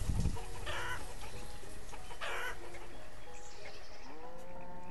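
Chickens clucking and a rooster crowing on a farm in the village-building game Banished, layered over a steady, dense ambient bed of farm and wind noise, with short bursts of clucks recurring across the scene.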